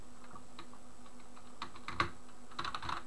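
Typing on a computer keyboard at a desk, a sparse run of light key clicks with a brief cluster of sharper taps near the end, fairly close and otherwise quiet.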